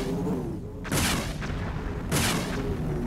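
Two heavy, booming blasts of gunfire about a second apart, each a brief broad burst over a steady low rumble, from a combat exchange in the video game Hostile Waters: Antaeus Rising.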